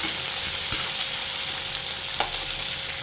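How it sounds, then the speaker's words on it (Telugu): Onions and chillies fry in a pan with a steady, close sizzle and a couple of sharp stirring clicks, with no talking. "కోసి పెట్టుకున్న ఆనియన్స్, చిల్లీ వేసేద్దాం. ఇందులో వేసి కలుపుదాం. ఇవి కూడా వేగే వరకు ఉంచుదాం."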